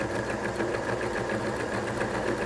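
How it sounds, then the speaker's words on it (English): Sewing machine stitching a buttonhole, a loud, close, continuous mechanical whir with a rapid, even needle chatter throughout, no voices. "on my sewing machine, my needle goes up and down a couple times and it ties off its own knot on the buttonhole"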